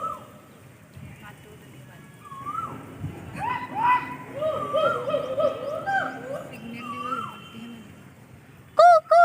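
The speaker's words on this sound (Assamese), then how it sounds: "মই ক'লো কুলিটো মাতিলে" A cuckoo at a zoo on a hot day gives repeated rising, whistled calls at moderate distance over a murmur of background voices, with louder nearby sounds at the end.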